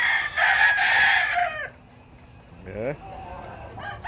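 Young Kelso yellow-legged roosters, about seven months old, crow at a breeding farm: one loud, close crow fades out, then a shorter second crow follows, with a man's brief exclamation in between.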